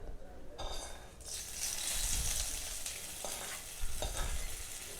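Hot tempering sizzles loudly as it is stirred into peanut tomato chutney, a crackling hiss with spoon scrapes and clinks close by, with a voice briefly heard.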